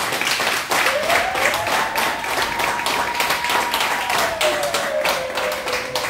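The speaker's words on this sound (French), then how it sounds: "Est-ce qu'on peut applaudir pour lui encore une fois?" Audience applause after a call to clap for a political candidate at a francophone campaign gathering: dense, steady clapping sustained for about six seconds, loud and close, with a rising and falling whistle-like tone running through it.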